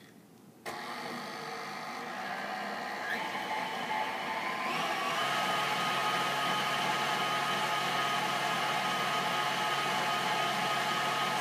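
An electric mixer starts up with a click and settles into a steady, loud motor whir while beating strawberry cake mix, its pitch shifting slightly as it runs.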